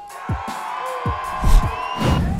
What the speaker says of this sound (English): There's plenty of cheering, but it's a tie for third place, and the crowd are wild for the final